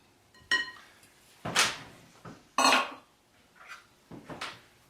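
Egg being worked into flour for naturally leavened brioche dough, heard as a few separate bursts of scraping and knocking from a utensil or bowl at irregular intervals, close and quiet between, with no talking.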